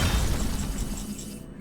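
Flame Cannon card effect in Hearthstone, a short, loud fiery blast with a burst and rumble that holds briefly then cuts off abruptly.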